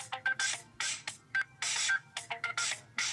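A Sony Xperia Z stock ringtone pulses in choppy rhythmic bursts of electronic organ-like chords and beats, stopping and starting in a syncopated pattern, heard up close without any voices.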